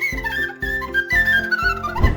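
A fluier, the Romanian shepherd's flute, plays a short tune of four sustained phrases with brief breaths between them, clear and close, with no talk.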